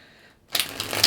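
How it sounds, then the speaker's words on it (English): Tarot cards are shuffled in a dense, papery riffling burst that starts abruptly after a moment of near-silence and runs steadily to the end, close and fairly loud. "One more shuffle."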